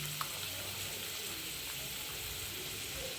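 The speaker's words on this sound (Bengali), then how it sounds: "এবার আলুটা ভাজা হতে হতে আমি এটা কিছুক্ষণ রেখে দিই" Potato pieces fry in mustard oil, a steady soft sizzle and crackle holding evenly without a break, with no voices over it.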